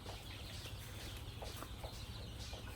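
Forty caged laying hens on a poultry farm cluck softly and steadily at a distance, a continuous low barnyard murmur with scattered faint calls and no talk.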